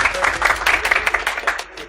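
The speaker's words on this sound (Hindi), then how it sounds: "मूसा भाई के लिए तालियां।" A class of students applauds a classmate during a business law lecture, steady dense clapping for two seconds, close and fairly loud, with a voice briefly heard under it.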